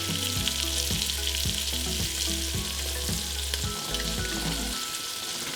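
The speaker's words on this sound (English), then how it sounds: "So our steak's been cooking probably for about 4 or 5 minutes. Give it one more quick spin in the butter." Steak frying in butter in a pan, a loud, dense sizzle that crackles steadily and close up from start to finish, with a faint low hum underneath.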